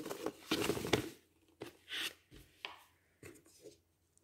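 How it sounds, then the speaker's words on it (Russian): Sticky milk yeast dough being worked with a spoon in a bowl, giving a series of short scraping, squelching strokes in irregular bursts, close and fairly quiet, with no talking. "Я пока еще вымешиваю ложкой"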